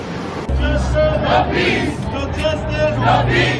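A crowd of about 200 protest marchers moving through the main street of El Cajon, California, a dense steady babble of many voices with shouts rising and falling, traffic rumbling low underneath.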